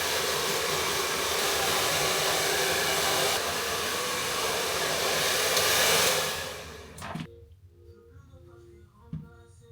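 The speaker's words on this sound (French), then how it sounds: "Je vais mettre le sèche-cheveux" A hair dryer blows close by as hair is dried, a loud steady whooshing hum that runs for about six seconds before being switched off, leaving faint handling sounds.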